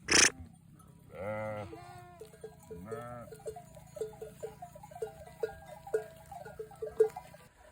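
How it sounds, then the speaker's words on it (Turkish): A flock of sheep and lambs at pasture: several bleats ring out near and far over a steady low hum, with light tinkling bell notes in between and a sharp knock at the start. "Kuzular, koyunlar."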